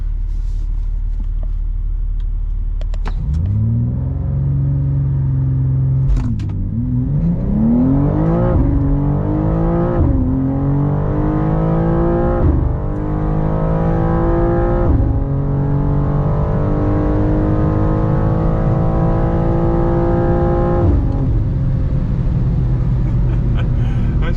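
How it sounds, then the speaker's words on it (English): A 2024 BMW M2 G87 launching under launch control: the engine holds at a loud idle rumble, then revs hard and pulls through several quick upshifts, each shift a short dip before the climb resumes, close and loud throughout. "All right, let's get our launch control set up here."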